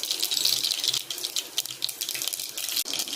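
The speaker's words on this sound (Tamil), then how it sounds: "இப்போ கடுகு போடுறேன்." Mustard seeds dropped into hot oil already holding pepper, cumin and fenugreek for a Tamil vatha kuzhambu: a steady, close hiss of sizzling with scattered small crackles and pops.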